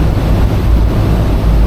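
Heavy water rushing out as it drains near Niagara Falls, a loud continuous thundering wash that holds steady from start to finish.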